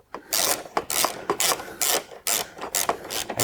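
Rhythmic metallic rasping and ratcheting from a wrench spinning a nut onto a titanium exhaust on an E92 M3, repeated short close bursts of about half a second with brief pauses between them.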